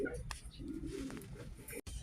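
Soft, low cooing from a domestic pigeon with a swollen eye, quiet and close, with faint background noise and a brief dropout near the end.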